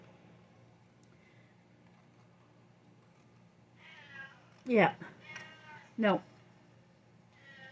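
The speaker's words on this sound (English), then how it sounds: "I don't know if you can hear her meowing at me" Two loud, drawn-out cat meows close by, with quieter vocal sounds around them and a person speaking briefly, over a low background hum.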